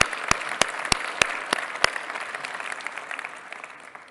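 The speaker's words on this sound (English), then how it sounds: "Round of applause for the ministerial team." Applause from a Conservative Party Conference hall audience, a broad wash of clapping with several sharp, loud claps close to the microphone early on, gradually fading toward the end.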